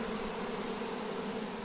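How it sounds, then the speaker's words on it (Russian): Dense, steady buzzing of a honeybee swarm settling into a hive, close and continuous, with no voices. "вот и наш ройчик"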